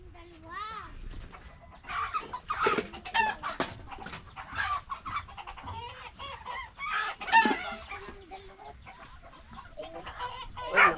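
A loose chicken clucks and squawks repeatedly in irregular bursts at a backyard mulberry harvest, fairly close, mixed with people talking.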